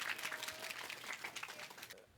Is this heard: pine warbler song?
no